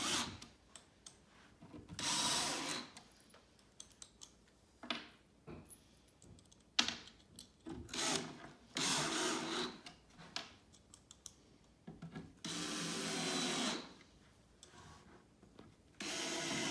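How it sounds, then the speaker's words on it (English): Short black screws are driven into a wooden farmhouse wall cubby coatrack with a power drill, several short whirring bursts separated by pauses and quiet handling noises. "Grabbing the shorter black screws like you used to put the back on. Start screwing those into place."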